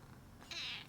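A single short cat meow, faint and close, rising briefly in the middle and then fading away.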